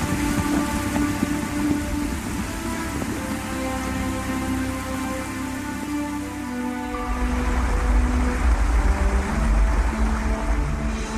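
Heavy rain pours through a night thunderstorm, a dense steady hiss over musical tones, with deep thunder rumbling in and swelling louder in the second half.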